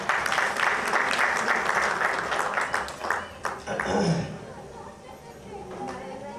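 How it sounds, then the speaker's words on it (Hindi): At a music launch for a Bhojpuri film, an audience claps in a dense, steady wave that dips briefly, then trails off into a murmur of voices and background chatter. "एक ताली बजा के आशीर्वाद दीजिए।"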